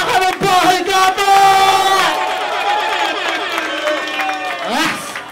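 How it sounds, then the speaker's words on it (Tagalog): A crowd at a rap battle event roars with loud cheering, whoops and applause, a dense sustained wall of voices close and energetic throughout, with a brief sharper shout near the end. "akin munang inihingi ang malakas na sigawan at palakpakan ng bahay gamo!"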